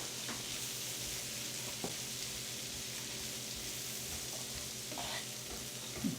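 Onion frying in a pan for a Philly cheesesteak, making a soft, continuous sizzle with a few light clicks and stirring noises and no talk.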